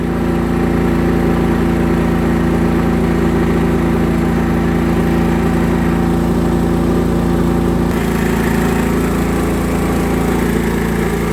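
A Kipor KS 4000iEG S dual-fuel inverter generator runs steadily under load, a constant close mechanical drone with a faint shift partway through, with no voices.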